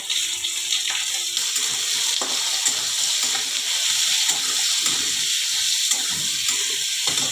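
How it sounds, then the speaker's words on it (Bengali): Cut potatoes dusted with turmeric fry in a hot pan for a bitter gourd and potato dish, giving a steady, close sizzle with bursts of stirring scrapes throughout and no talk. "এই যে আলুগুলো কেটে রেখেছি, এবার আলুগুলো আমি দিয়ে দিলাম। হলুদ গুঁড়ো দিয়ে দিলাম।"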